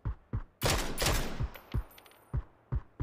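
Bursts of in-game rifle fire from PUBG on Erangel at a passing car: a rapid volley of loud, close shots followed by several separate single cracks spaced apart.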